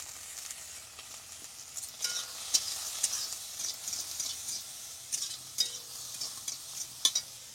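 Shelled-on prawns with turmeric powder and garlic frying in a pan, a soft hiss under sharp, intermittent scrapes and clinks of stirring that come in irregular bursts, close and without speech.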